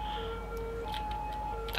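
An ambulance siren in the city-building game Cities Skylines, a faint, tonal wail that shifts pitch in steady steps under low background hum, with no talk.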